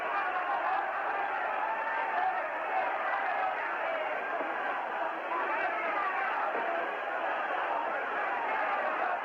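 A large arena crowd at a boxing match in Puerto Rico keeps up a steady, dense roar of voices from start to finish, with no breaks and no single voice standing out.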